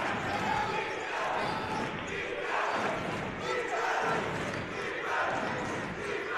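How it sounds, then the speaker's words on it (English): Crowd at a college men's basketball game cheering and roaring in swelling waves, a dense wash of voices from a packed gym, with a commentator talking over it. "Crowd getting into it now."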